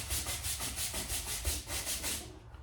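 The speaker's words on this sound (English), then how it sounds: "brush it off" Brisk brushing strokes across a pool table cloth after play, a rapid, even run of soft scratchy sweeps at close range and fairly quiet, with no talking.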